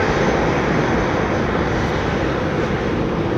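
An airliner powered by IAE V2500 jet engines roars with a loud, steady broadband rumble at London Heathrow Airport, sustained without break and with no voices over it.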